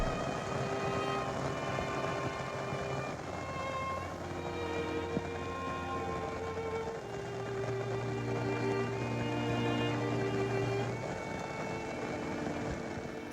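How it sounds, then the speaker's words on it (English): Steady rain falls in a constant wash of hiss and patter, with a low background hum running beneath it throughout. "The rain, the water doesn't bother me."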